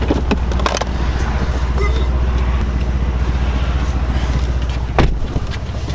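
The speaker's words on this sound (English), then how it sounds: "we're setting off in the 2017 C63 AMG" A 2017 Mercedes C63 AMG coupe pulls away, its engine a steady low rumble heard from inside the cabin, with a few small clicks and a louder knock partway through.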